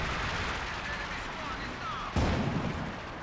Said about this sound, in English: drop a Panzer Commander artillery barrage on this howitzer